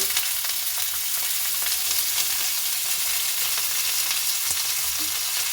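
Radish pieces fry and get stirred in a pan alongside lightly fried potatoes for a vegetarian cauliflower-stem curry, making a loud, continuous sizzle with occasional spatula scrapes and no talking.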